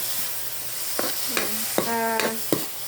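Sliced bitter gourd cooked with tomato and shrimp paste is stirred in a hot pan, with a steady sizzle and several close spatula scrapes and knocks at irregular intervals and no talk.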